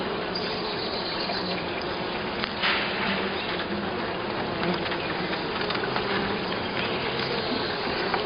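Honey bees buzz steadily around an open hive during a spring inspection, a dense close hum that runs unbroken throughout with small rustles and knocks, and no one speaking.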